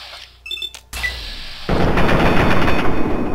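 A few electronic beeps give way to a loud, sustained burst of rapid Fallout 3 gunfire that continues without a break.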